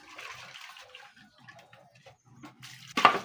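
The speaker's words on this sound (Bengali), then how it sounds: "আবার জল দাও, মগে করে জল উঠে আবার দাও।" Water poured from a mug during washing by hand splashes briefly and loudly at the end, after quieter dribbling and trickling water sounds, close by.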